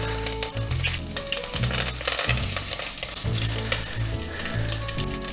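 Mustard seeds, dried red chillies and curry leaves sputter in hot oil for a Kerala-style chicken stir fry, a loud close crackle and sizzle with repeated stirring scrapes.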